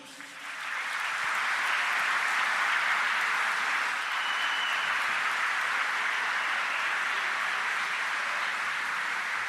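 A church congregation applauds as Kaká is welcomed forward, a broad, sustained roll of clapping from many hands that swells after a brief start and holds steady.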